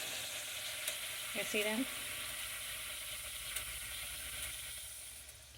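Tortilla strips frying in hot oil give a steady, continuous sizzle throughout, with a brief voice speaking over it partway through.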